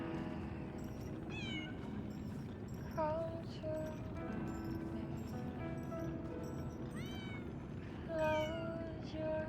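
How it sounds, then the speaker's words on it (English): Cat in the video game Lies of P: several short, clear meows that rise and fall in pitch, spaced irregularly across the stretch, over a murmuring game backdrop and soft music. "let's pet the cat."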